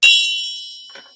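A single gong struck as a show sound effect rings out bright and metallic, then decays slowly over about a second, with a faint second tap late in the ring.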